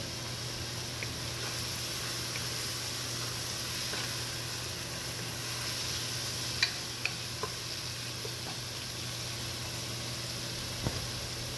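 Tomatoes sauté in a pan with a steady, faint hiss of frying. Occasional soft ticks and taps from the cookware break through now and then.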